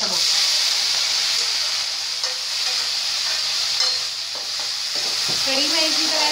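Two red chillies hit hot oil in a home kitchen pan as kadhi gets started, giving a steady, close sizzle and hiss that runs unbroken the whole time, with faint stirring clinks near the end.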